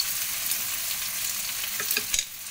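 Close, steady sizzling of chicken and onions frying in a hot pan, with a few scraping stirs near the end.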